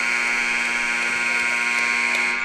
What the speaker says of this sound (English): And there goes the final buzzer.